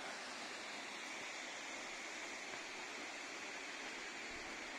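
A waterfall about 27 metres high at the end of a hiking trail in Haute-Loire or Ardèche pours in a steady, dense roar of rushing water, loud and continuous with no voices.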